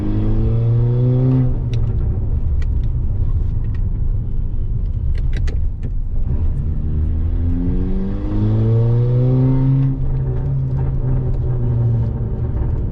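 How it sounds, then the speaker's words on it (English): A Skoda Laura vRS turbo car engine revs and accelerates with rising and falling tones, and sharp exhaust pops and crackles burst out in the middle of the pull. "I don't know if you can hear the pops and crackles."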